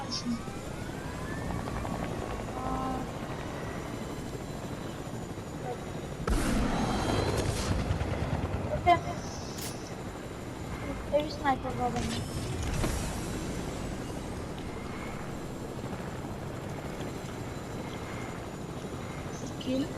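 A video game helicopter drones steadily with a broad rotor and engine roar, overlaid by occasional mechanical creaks and dull thuds from the surrounding gameplay; the sound is continuous and fills the whole stretch.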